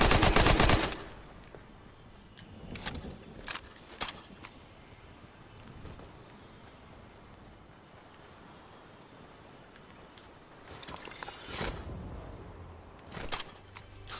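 Fortnite gun firing: a loud opening burst followed by scattered sharp shots, then a quiet stretch with faint ambience before another cluster of rapid reports near the end.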